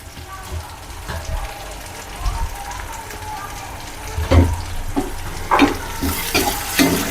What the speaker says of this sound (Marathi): आपलं कांदा आणि मिरची मस्त परतून घ्यायची